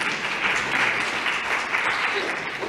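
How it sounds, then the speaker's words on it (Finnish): An indoor audience at a lecture event applauds warmly, a dense, continuous wash of clapping that holds steady and loud throughout. "joka saapuu raikuvien aplodien saattelemana."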